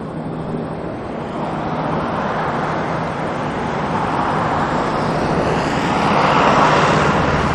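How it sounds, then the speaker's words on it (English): A police helicopter passing to the east of an airport plane-spotting spot, heard as a broad steady engine and rotor roar that slowly swells louder toward the end, fairly close and continuous with no voices. "We got the police chopper passing by to the east of us."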